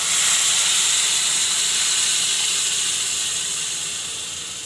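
Rajasthani-style dal, seasoned with coriander, boiling in a pot gives off a steady, close steam hiss with no break. It fades slightly toward the end.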